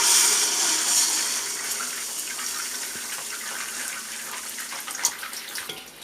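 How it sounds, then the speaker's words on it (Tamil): Beaten eggs poured into hot oil in a pan hiss and sizzle loudly and steadily, close up, easing slightly over time with a single small pop near the end and no voices. "இப்போ இதில் நம்ம முட்டை ஊற்றிக்கலாம்."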